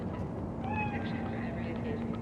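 A cat in the video game Cyberpunk 2077 lets out a short meow over a dense, constant game background of noise and hum, moderately clear and close.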